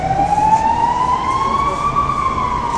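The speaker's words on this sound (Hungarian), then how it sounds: "Hát ez a szirénázás nem a tüntetés volt." A siren wails loudly along a street during a protest, one long rising tone that slowly sweeps upward and holds, steady and close over low traffic rumble.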